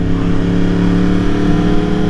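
A 2020 Yamaha R1 sport bike fitted with an Austin Racing GP1R exhaust revs steadily, its loud, close engine note holding a dense harmonic drone throughout without any talk.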